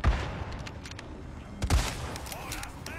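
A sniper rifle shot in the Overwatch video game, two heavy booming reports about a second and a half apart amid game noise, with a voice talking.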